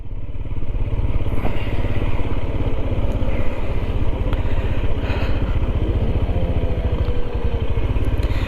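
A Royal Enfield Himalayan motorcycle being ridden, its engine thrumming steadily and close throughout, with a constant low pulsing drone and some clatter over wind.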